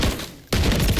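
Gunfire in Call of Duty: Modern Warfare III on the Grime map, with a loud burst of shots that dies away briefly and then resumes as a second heavy volley close by.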